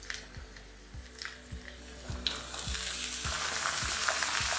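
Cut eggplant pieces sizzling with potatoes in a hot pan for a Bengali vegetarian dish, a steady frying crackle that swells louder partway through, punctuated by soft rhythmic stirring thumps, with no talking.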